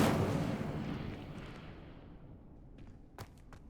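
Incendio fire spell cast in the Hogwarts Legacy video game: a soft whooshing burst that fades over a couple of seconds, followed by a few faint clicks, all fairly quiet.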